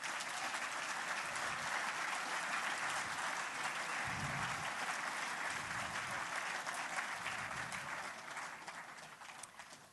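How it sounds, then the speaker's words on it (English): Sustained applause from a large crowd at a Sunday awards ceremony at Silverstone, dense and steady for most of the stretch before tapering off near the end. "Give them a round of applause,"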